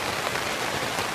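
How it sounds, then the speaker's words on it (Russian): A heavy rain shower pours down on a campsite in Shchepkinsky forest near Rostov-on-Don, a steady dense hiss of drops striking surfaces close by, continuous and loud with no voices. "У нас только что начался дождь."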